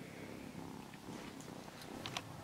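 A cat purrs steadily and close by, a soft continuous rumble that runs through the whole moment with faint clicks of small metal charms on top.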